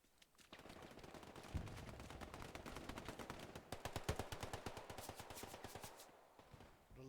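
Machine gun fire in Hell Let Loose during a KRRC versus SAS infantry match: a long, fast run of evenly spaced shots, fairly distant and quiet, with no voices heard.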